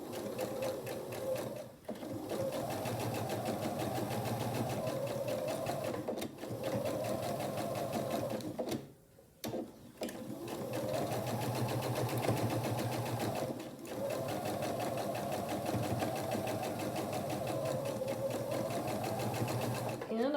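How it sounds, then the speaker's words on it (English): A sewing machine runs steadily, stitching a scant quarter-inch seam along a rail fence quilt block, with a brief pause in the middle before it resumes; a voice speaks softly at moments beneath the hum. "I'll take it to the machine, a scant 1/4 inch seam all the way down."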